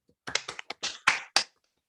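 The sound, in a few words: clapping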